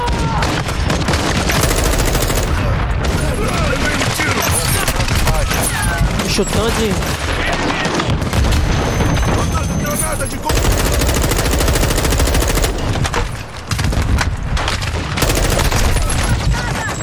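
Loud, nonstop bursts of rapid gunfire and shots in Call of Duty: Warzone 2.0, with excited voices talking over the barrage.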